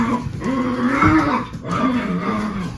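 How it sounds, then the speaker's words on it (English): A dog growls in long, low, rumbling waves, close and fairly loud, with a brief pause midway before the growl resumes. "Yes, that's a dog"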